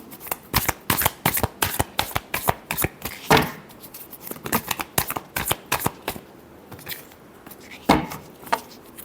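Tarot cards are shuffled by hand, giving a rapid series of sharp riffling bursts and papery slaps in an irregular rhythm, close and crisp, with brief pauses between shuffles.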